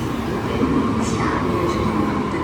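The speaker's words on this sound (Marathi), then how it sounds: "ही आली आपली ट्रेन." A train pulling into a station in Bruges, Belgium, makes a close, steady rolling rumble with a faint high squeal overhead.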